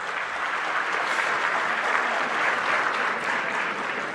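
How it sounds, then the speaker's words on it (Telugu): A large audience claps loudly and steadily for several seconds in a dense, continuous wash of applause at a teachers' event, with no break or voices standing out. "గట్టిగా చప్పట్లు కొట్టాలండి"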